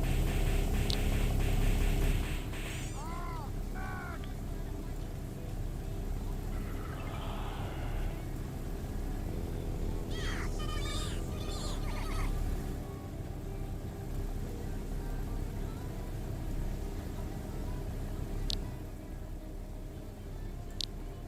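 Cars race in the Second Life GRID DRIVE game with a continuous engine drone and road rumble, broken by occasional revving swells and brief higher-pitched squeals, all steady and fairly loud.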